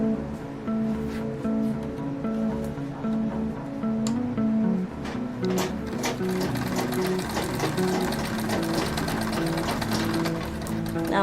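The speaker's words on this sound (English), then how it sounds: "I'm done sewing the side." A sewing machine stitches a woven bag shut with a steady, loud mechanical whir that runs without a break, its rattle growing busier toward the end.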